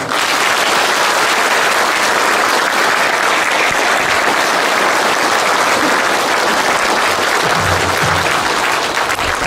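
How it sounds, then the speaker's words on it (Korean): A hall audience at a police lecture gives loud, sustained applause to welcome a former police commissioner, a thick continuous roar of clapping hands holding steady throughout. "큰 박수 부탁드립니다."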